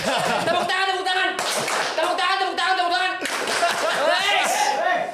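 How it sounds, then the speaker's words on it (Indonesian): A small group claps in a podcast studio, sharp hand claps mixed with chuckles and lively voices talking over them the whole time. "Tepuk tangan untuk donatur."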